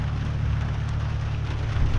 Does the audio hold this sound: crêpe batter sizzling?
no